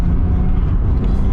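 A Nissan R31 Skyline drives hard through a corner with its rear end sliding out. A loud, steady, low engine roar fills the cabin without pause.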